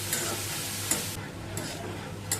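Cabbage being stir-fried with spices in a pan, with a few quick scraping strokes of the spoon spaced across a continuous soft sizzle, close and fairly quiet, no talking.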